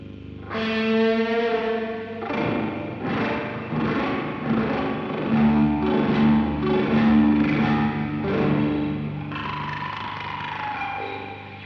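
A distorted guitar plays through an Old Blood Noise Beam Splitter effects pedal, its notes smeared by harsh, boxy room reverb with long, ringing decay.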